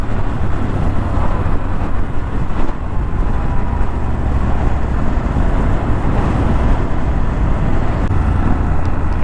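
Triumph Scrambler 1200 motorcycle on the move, a loud, steady engine rumble mixed with heavy wind and road noise, continuous throughout.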